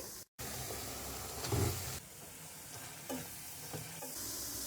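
Chicken and masala frying in a karahi for a white chicken karahi, with a soft, steady sizzle and occasional stirring scrapes, close and fairly quiet, with no talking.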